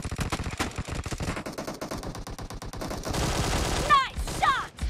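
Rapid bursts of automatic gunfire from the PUBG Mobile video game, dense and loud throughout, with rattling repeated shots and a few sharp whizzing effects near the end.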